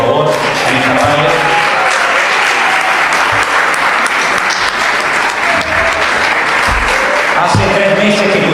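A church congregation applauds Vanessa and Anderson in a steady, dense roar of clapping that fills the room for the whole stretch without letting up.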